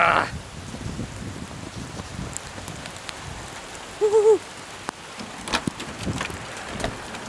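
Steady broadband patter of heavy rain or hail on a surface, continuous throughout, with a brief tonal bleat-like sound partway through.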